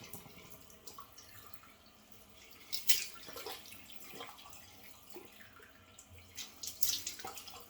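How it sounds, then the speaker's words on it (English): Tap water runs into a bathroom sink during a wet shave, a quiet steady trickle with a couple of louder splashes as hands move through the stream. "Sink water getting colder."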